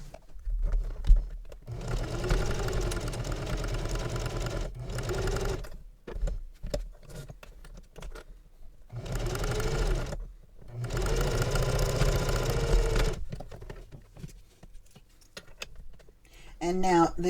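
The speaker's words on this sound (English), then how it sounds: "I want to baste this zipper onto here using a 1/8 inch seam allowance" A domestic sewing machine basting a zipper onto a travel belt at a narrow seam allowance, bursts of fast close whirring stitching separated by pauses, with someone talking between runs.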